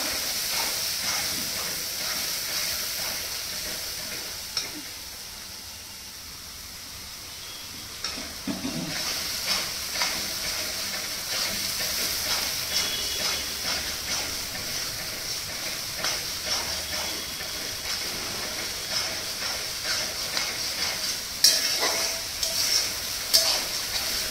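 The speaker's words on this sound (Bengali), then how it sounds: "পেঁয়াজটা ভালো করে কষিয়ে নিচ্ছি।" Onions sautéing in a pan, a continuous soft hiss and frying crackle, with scattered clinks and stirring sounds. A quieter stretch comes partway through, and faint voices can be heard in the background.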